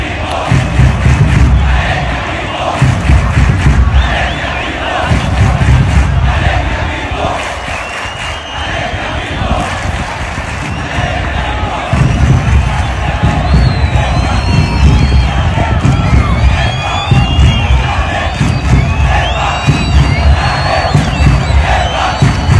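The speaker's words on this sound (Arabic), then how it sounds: "أول هتاف جمهور الأهلي بيودع خالد بيبو" Al Ahly football supporters in a packed stadium chant in unison to bid farewell to Khaled Bebo, a loud, dense roar of massed voices rising and surging continuously, with a brief dip midway before the chanting swells again.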